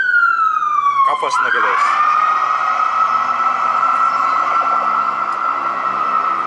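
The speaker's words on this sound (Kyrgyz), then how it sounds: "чоң шаарларда ошентип пожарный машиналар, медицинский машиналар өтүп турат, үндөрүн чыгарып." Emergency sirens from fire engines and ambulances passing on a Brooklyn street in New York, a loud wailing tone that sweeps down then holds steady with traffic behind, while a person speaks over it.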